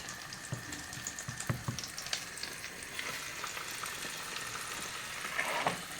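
Crucian carp dusted in starch sizzle and crackle in hot oil in a pan, a steady fizzing hiss with occasional pops and the scrape of stirring.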